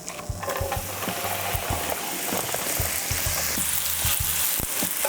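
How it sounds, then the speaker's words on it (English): Tortilla strips fry in hot avocado oil with a steady, close sizzle, broken by intermittent clicking and clattering of a utensil stirring the pan; no one speaks. "we're just frying up the tortilla strips"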